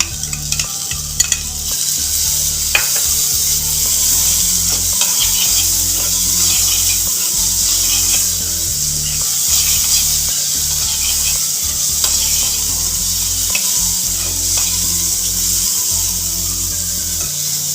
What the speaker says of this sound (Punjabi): ਸ਼ਿਮਲਾ ਮਿਰਚ ਨੂੰ ਥੋੜਾ ਸਮਾਂ ਭੁੰਨਣ ਤੋਂ ਬਾਅਦ ਆਪਾਂ ਇਹਦੇ ਵਿੱਚ ਬਰੀਕ ਕੱਟਿਆ ਹੋਇਆ ਟਮਾਟਰ ਪਾ ਲਾਂਗੇ